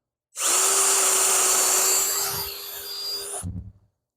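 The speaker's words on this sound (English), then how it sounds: "If this drill could still drill" A power drill whirs loudly for about three seconds, its pitch sagging as it bites into wood, then stops abruptly with a brief clatter.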